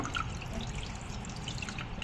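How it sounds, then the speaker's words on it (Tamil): Rinse water drains from a vessel of washed white rice, a close, steady trickle and pour with small splashy drips lasting a couple of seconds. "இந்த மாதிரி நல்லா வாஷ் பண்ணி இந்த தண்ணியை வடிச்சிருங்க"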